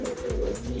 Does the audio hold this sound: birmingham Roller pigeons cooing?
yes